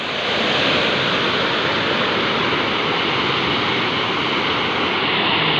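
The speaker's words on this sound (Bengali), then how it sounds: "কি স্রোত যাচ্ছে, খুব শব্দ শোনা যাচ্ছে না?" A rushing stream current in a village, a loud, dense, continuous roar of water heard close up and without pause.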